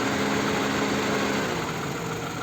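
A car engine idles steadily after repair work on its VVT-i variable valve timing system, with a continuous, fairly loud mechanical hum and no talk over it.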